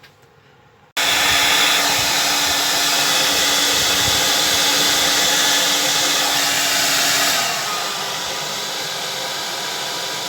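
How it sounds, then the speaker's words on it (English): A hair dryer switches on and blows steadily to heat part of a Roberts RT1 radio, a loud continuous whooshing hum that drops slightly in pitch and volume near the end. "I'm going to go and get a hairdryer and heat this up"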